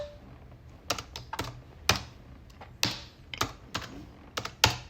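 Keys clack on a computer keyboard as a short cd command is typed, about a dozen crisp, close strokes in an uneven rhythm with brief pauses, alone without talk.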